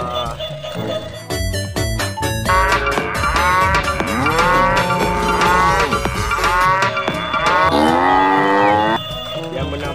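A walking toy cow gives loud electronic moos, several long sliding calls in a row, over the clatter of its mechanism, with a voice briefly heard.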